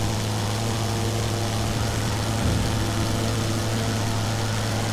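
A WWI aircraft engine drones steadily in a flight simulator game, a continuous low, even hum with no pauses that runs for the whole stretch.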